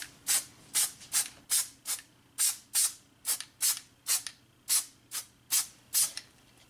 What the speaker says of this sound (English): I'm just going to spray it with some spray adhesive right here